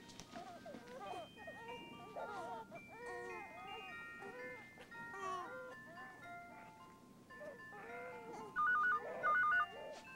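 A telephone rings in a 1992 comedy scene, two short bursts of electronic trilling near the end that cut through an ongoing clutter of voices and background sound.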